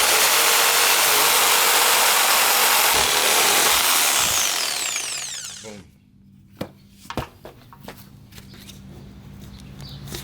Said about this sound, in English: Now I'm going to use my favorite tool to trim off this Sawzall, also known as a reciprocating saw.